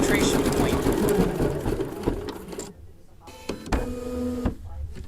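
A Bernina B790 Pro embroidery machine rattles and hums nearby as it stitches a design, its mechanical chatter running under steady talking and easing into a quieter, steadier whir toward the end.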